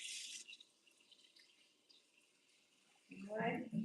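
Water is poured into a pot of brown stew chicken, a loud burst of splashing liquid arriving near the end after a stretch of quieter kitchen sound.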